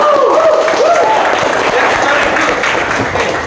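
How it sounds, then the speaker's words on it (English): Applause from a class audience follows a Snow White story told in a school speaking lesson, a steady wash of clapping with voices talking over it. "Clap hands."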